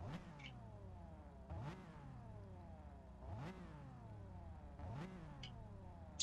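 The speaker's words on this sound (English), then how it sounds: "Just give yours a little rev." A BMW M4's twin-turbo inline six engine revved four times in a row, each blip climbing sharply and then falling away, heard at a moderate distance with no talking over it.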